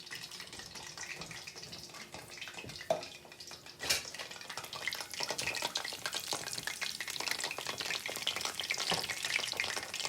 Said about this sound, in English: And we'll put that in the frying pan.